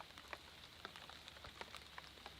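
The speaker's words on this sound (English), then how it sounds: "It just started to rain." Rain beginning to fall outdoors at an off-grid building site, scattered soft drops pattering irregularly on surfaces over a faint steady hiss, quiet and close with no voices.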